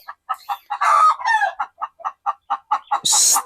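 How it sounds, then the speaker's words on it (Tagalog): A chicken clucks in a quick, rhythmic series of short calls, broken by a couple of drawn-out crowing cries, close and fairly loud. "ang ingay ng ating manok"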